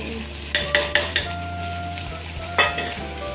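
Chicken pieces are dropped into a kadai with tomato ketchup and lemon juice, and clanks and clinks of a spoon against the metal pan ring out over a low steady sizzle, with a few sharp knocks close up.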